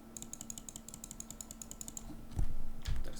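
Rapid run of light key taps on a computer keyboard's numeric keypad, evenly spaced and close, followed by a couple of heavier thumps near the end.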